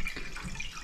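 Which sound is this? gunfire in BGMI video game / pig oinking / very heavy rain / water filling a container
water filling a container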